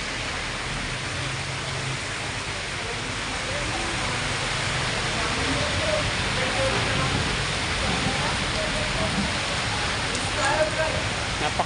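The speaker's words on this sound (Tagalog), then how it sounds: "Lakas ng ulan oh." Heavy rain from a typhoon pours steadily in a broad, constant hiss that swells slightly over time.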